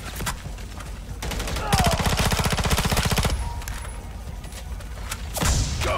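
Call of Duty: Modern Warfare 3 Zombies gunfire, a sustained rapid automatic burst in the middle with scattered shots and thumps around it, loud and close, mixed with faint game voices.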